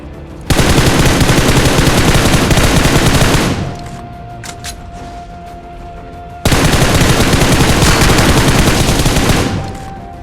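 Gunfire in a battle royale video game: two long, loud bursts of rapid automatic fire separated by a quieter stretch with a few scattered shots and a thin electronic tone.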